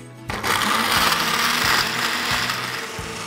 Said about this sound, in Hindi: some ice and let's blend it away